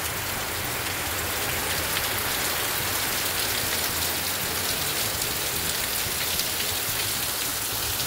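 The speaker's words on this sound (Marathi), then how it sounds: "पावसानं सुरुवात केलेली आहे" Rain setting in on a Shravan Monday, falling steadily and densely as a constant hiss of drops on surfaces, even and unbroken from start to finish with no voices.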